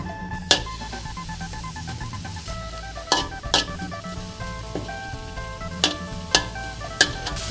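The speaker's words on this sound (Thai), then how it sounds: "กระทะใส่น้ำมันนิดเดียวนะคะ แล้วก็เอาพริกลงไปผัดค่ะ" Chilies sizzle steadily in a little hot oil in a pan, with occasional sharp scrapes and clinks of a utensil stirring the pan.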